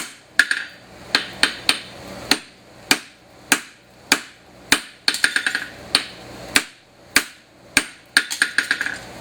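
Blacksmith's hammer striking hot steel while forging a horseshoe heel, a steady series of sharp, ringing blows with occasional quick bouncing rebounds on the anvil, close and loud with no talk.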